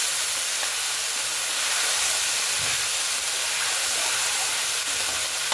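Green chili paste frying in a pan for a spicy prawn masala gives a loud, steady, even hiss that continues without pause.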